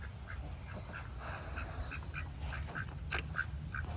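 A duck quacks repeatedly in short, fairly regular calls at moderate distance, heard outdoors near a greenhouse among chestnut trees in autumn.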